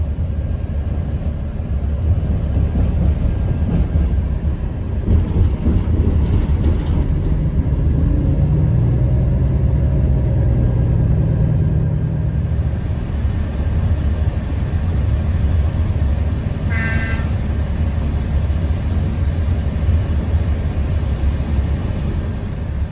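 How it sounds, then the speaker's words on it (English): A FEVE narrow gauge train in Spain rolls along with a loud, continuous low rumble, its wheels clattering rhythmically over track joints as it passes through a diamond crossing near Oviedo. "we cross the tracks from Gijón to La Viana at a diamond crossing"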